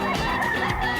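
A White Kelso rooster with a straight comb crows once, loud and close, at a crowded pet market stall.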